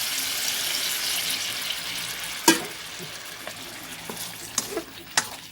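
Bean sprouts and tofu stir-fried in a pan, steady sizzling hiss with scraping spatula strokes and a few sharp clinks near the end.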